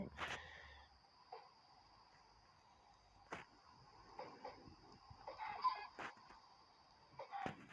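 A baby chicken in a survival video game gives short, scattered clucks and chirps, several fairly loud ones spread over a faint, steady background tone.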